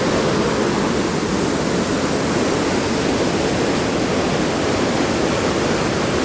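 A waterfall roars as a dense, continuous rush of heavy falling water, loud and close. The sound stays steady throughout with no pauses and no voices.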